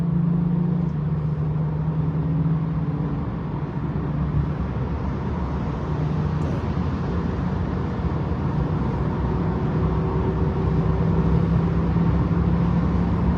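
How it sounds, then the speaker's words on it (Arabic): Steady wash of car and engine noise from dozens of cars racing recklessly on a highway at night, a continuous low rumble with traffic roar and no distinct passes standing out. "باقي السيارات كلها تقوم الآن بعمل تهوري، عمل مجنون، سباق للسيارات"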